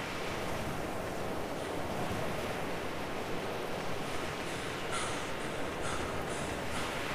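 Water waves in the ARK Mobile survival game make a continuous surf wash with a windy rush, steady and fairly loud throughout, with no talk.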